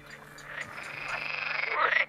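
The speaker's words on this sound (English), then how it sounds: "It's summer, and male edible frogs compete vocally for females." Male edible frogs croak in a summer wetland in the Netherlands, a single close, rising call building into a rapid pulsing trill over about two seconds, with no voices.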